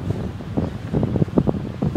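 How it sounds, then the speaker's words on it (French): Northwest wind blowing onshore along an ocean coast at high tide, a steady close rumble of gusts buffeting the microphone, moderately loud with no talk. "le vent vient de face, là."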